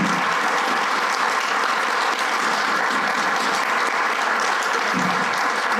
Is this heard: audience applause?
yes